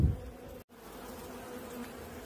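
Honey bees buzzing around an open Alpine-type beehive, a dense continuous hum heard close and steady, broken only by a moment of silence near the start.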